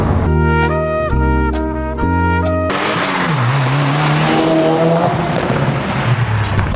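Exhaust note of a 2017 Subaru WRX Limited, first as loud rising revs through quick gear changes, then a lower steady drone with some tire noise, close and with no talk over it.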